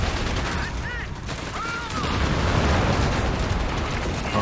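Anti-tank gun fire in Company of Heroes 3 amid a dense, continuous wash of battle noise, with heavy low booms and scattered shots rumbling throughout.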